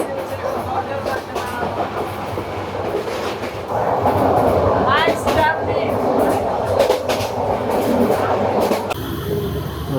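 Night train pulling away on a journey, a continuous rumble of rolling cars with rhythmic clatter and brief metallic squeals, growing louder midway as it gathers speed, with faint voices in the background.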